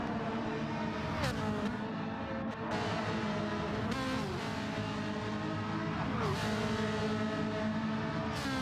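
Racing game car at Spa in GTC-1 class, engine roaring steadily and loudly throughout, with pitch sweeping during gear changes and passes, no talk.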